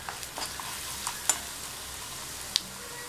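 Crushed pepper, cumin and a pinch of asafoetida tempering frying quietly in a pan, with a soft steady sizzle and a few light clicks of stirring, no voices.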